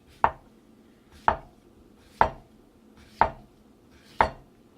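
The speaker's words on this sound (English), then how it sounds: "make sure when you cut the slices, make sure they're thin" A knife slicing a potato into thin slices on a cutting board, five sharp, evenly spaced chops about a second apart, close and clear with no talking.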